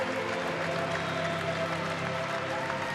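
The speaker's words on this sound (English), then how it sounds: "make their way to mid-court to really get a great hand from the crowd" A basketball crowd at the FIBA Intercontinental Cup 2020 applauds San Lorenzo de Almagro after their third-place game, a steady, dense wash of clapping and crowd noise filling the arena throughout.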